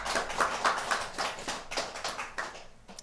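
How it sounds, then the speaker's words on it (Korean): A church congregation applauds during a Sunday morning service, with a short burst of scattered hand claps that starts sharp and thins out over a few seconds, heard at a moderate distance. "우리 하나님께 영광의 박수를 돌리겠습니다"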